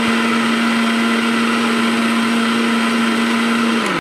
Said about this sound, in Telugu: టమాటో వేసేసి మంచిగా మిక్సీ వేసేసుకోవాలండి మెత్తగా